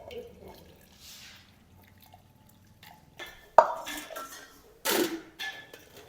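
Hot water from boiled Indian gooseberries drains off in sparse drips and trickles, faint at first, then two louder splashing pours near the end, with no talk over it.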